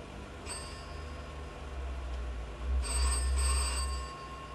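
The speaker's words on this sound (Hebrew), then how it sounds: "דוד, טלפון" A telephone rings in a home, two bursts of bright ringing over a low steady hum, with no talking during the rings.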